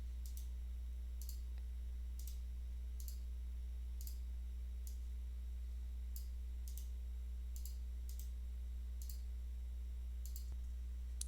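A computer mouse clicks during click-and-drag work in cable-routing software: a dozen or so sharp, faint single clicks at uneven intervals over a low steady hum.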